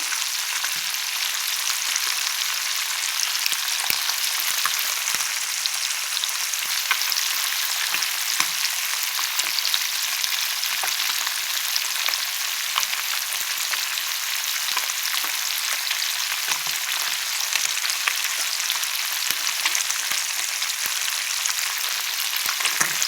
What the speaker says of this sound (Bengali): মানে অনেকটা মাছ ভাজা হয়ে যায়